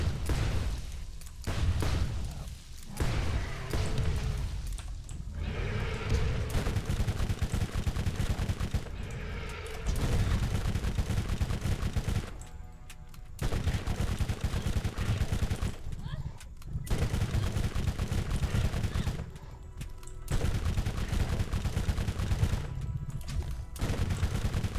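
Rapid bursts of machine pistol fire in the video game Borderlands, loud and sustained, broken by a few short pauses between volleys.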